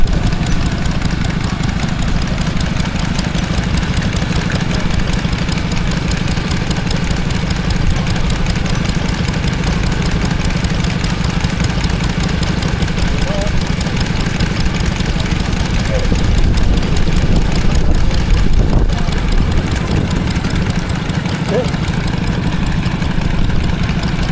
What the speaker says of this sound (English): that's a stationary engine powering a water pump